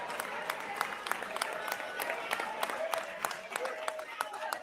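A crowd behind the speakers claps in a steady patter of individual hand claps, moderately close and continuous, mixed with voices.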